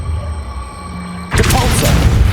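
A levitation spell cast in Hogwarts Legacy lands as a sudden booming whoosh about a second in, loud and sustained with shimmering magical swirls over a steady game ambience.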